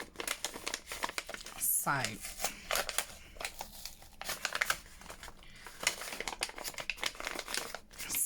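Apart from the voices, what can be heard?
handling a paper envelope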